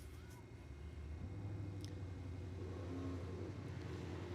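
A 2016 Jeep Grand Cherokee and a convertible Mustang launch together at a drag strip, giving a steady mid-pitched engine rumble that builds slightly and holds, heard from a moderate distance with no talk over it.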